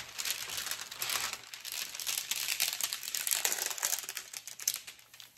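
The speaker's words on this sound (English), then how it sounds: "I'm just pulling this plastic back to try to get it to lay a little" Thin plastic film peeled back from a diamond art canvas crinkles and rustles in close, busy bursts, with no speech.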